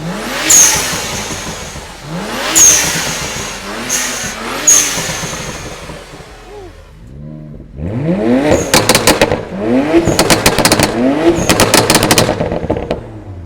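A modified BMW E92 335i with the N54 twin-turbo engine and a custom exhaust revs hard, a series of loud, sharp throttle blips with crackling pops. A busier run of rapid revs and bangs follows after a short lull.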